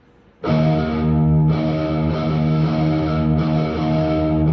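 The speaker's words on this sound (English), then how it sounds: "all this is distortion, by the way, from here on out" A heavily distorted electric guitar strikes sustained, buzzing chords, re-struck in a steady strumming pattern, loud and close with no voices.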